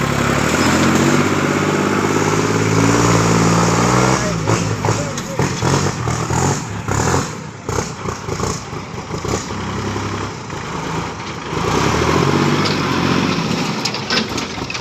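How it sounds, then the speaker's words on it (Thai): A loud diesel tractor engine chugs and rumbles continuously, close by, with rough idling and revving under outdoor noise. "ต้องเอารถไถมาเปิดทางให้ตุกตุกออกนะครับ"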